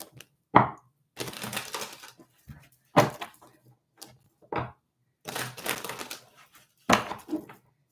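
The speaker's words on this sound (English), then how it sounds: "Three more shuffles here." Tarot cards being shuffled by hand in bursts of crisp riffling and tapping, several separate shuffles spaced by short pauses, close and fairly quiet, with no talking.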